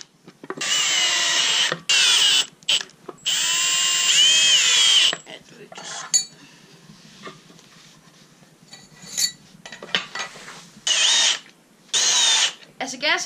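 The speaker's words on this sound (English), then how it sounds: "I have to drill a straight hole into the wood" A power drill bores a straight hole into a piece of wood while an electric go-kart is being built, coming as several loud close whirring bursts separated by pauses and quieter handling noises.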